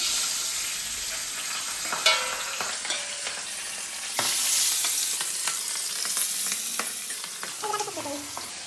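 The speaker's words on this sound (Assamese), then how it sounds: "এতিয়া মাছটো ফ্ৰাই কৰি লওঁ আহক এয়া তেল গৰম হৈ গ'ল" Fish pieces rubbed with turmeric and salt fry in hot oil with a continuous close sizzle and crackle that swells louder partway through as more pieces go in, with no voices.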